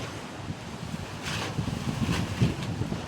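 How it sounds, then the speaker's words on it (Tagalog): Southwest monsoon wind blowing at sea, a steady rushing gust with microphone buffeting that swells louder midway and keeps roaring to the end, with no voices. "Parang pahabagat na siya ang takbo ng hangin."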